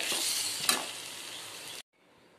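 Mint rice (pudina sadam) being stirred together with gravy, a steady scraping and mixing rustle that runs for almost two seconds, with one sharper clink, then cuts to near silence.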